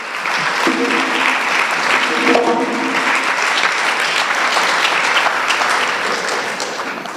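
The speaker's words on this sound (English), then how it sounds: "if we can give her a round of applause in her stead" An evening activism bootcamp audience breaks into loud, steady applause that fills the room for several seconds without pause, with faint voices mixed in.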